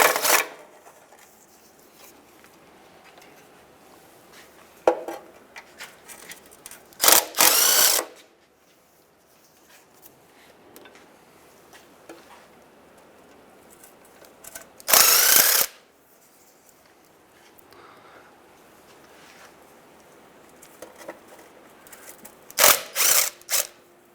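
Oil pan bolts come out of a 1992-1996 Ford F-150 in several loud bursts of ratchet or power-tool whirring, each a second or so long, separated by quieter stretches of faint clinks and handling noise.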